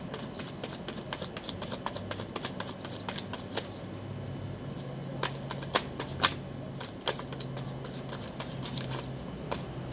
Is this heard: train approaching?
no